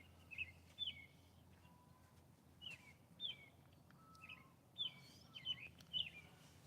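Small bird chirping outdoors in a yard during spring yard work, a series of short bright calls repeating every second or so, moderately distant over a low rumbling background.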